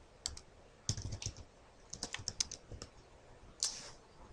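Fingers tap a computer keyboard in irregular bursts of crisp clicks, close and quiet, with short gaps between keystrokes and no voices.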